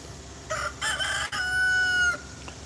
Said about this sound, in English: this little silky rooster. Go, why don't you crow?